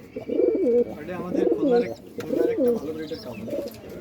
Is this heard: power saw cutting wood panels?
no